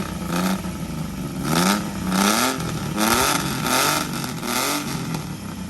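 A motorcycle is kick-started on the first kick and revs in repeated surges, loud and close, with raspy rising and falling pitch and no talking.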